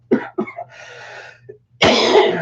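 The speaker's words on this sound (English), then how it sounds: "I'm going to cough again" A close, loud cough comes in several sharp bursts, followed by a rough throat-clearing hack.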